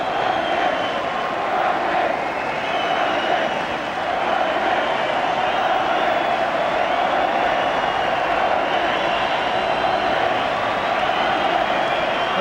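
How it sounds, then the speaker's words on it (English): Everton fans in a football stadium applaud non-league Woking players after an FA Cup fourth round tie, a dense, continuous roar of crowd noise and clapping held at a steady level throughout. "Everton fans also offering their applause for the non-league side."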